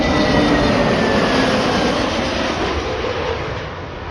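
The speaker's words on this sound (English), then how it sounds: "That's an Airbus A320." An Airbus A320 airliner at Heathrow Airport roars loudly and steadily with broadband engine rumble and a faint whine, close and continuous before easing slightly toward the end.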